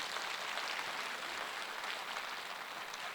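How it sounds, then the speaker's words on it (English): Parents and grandparents at a school Grandparents Day clap for a children's song and dance performance, a soft, even wash of many hands sustained throughout at a fair distance with no talking over it. "Give them a clap, your children."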